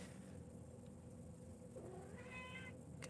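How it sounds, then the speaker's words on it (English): A talking cat gives a single drawn-out meow near the end, quiet and close, over a faint steady background hum. "Got the talking kitty going tonight."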